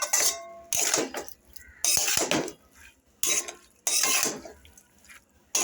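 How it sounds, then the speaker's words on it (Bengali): A metal spatula scrapes and mixes raw fish with oil in a bowl, giving bursts of clinking, scraping strokes with short pauses in between, close and moderately loud. "এবার এগুলো আমি সব একসাথে মাখিয়ে দেবো, খুন্তি দিয়ে মাখিয়ে দিচ্ছি।"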